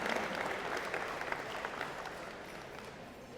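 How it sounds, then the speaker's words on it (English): A convocation audience at a college of engineering and computer science ceremony claps steadily for local industry supporters, a brief burst that stays fairly even and fades slightly toward the end. "I want you to give them a big round of applause for serving our community and our industry"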